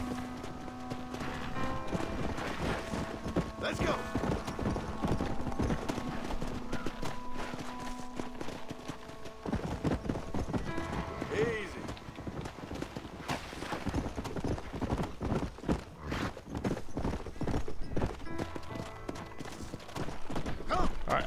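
Rapid hooves of a horse in the video game Red Dead Redemption clatter in a steady galloping rhythm, continuous and close, with a brief voice partway through.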